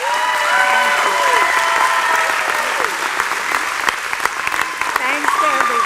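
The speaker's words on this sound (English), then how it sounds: "How about another round of applause for Lucille?" A crowd at a college commencement applauds steadily and loudly, with cheers and voices rising through the clapping; the applause continues throughout.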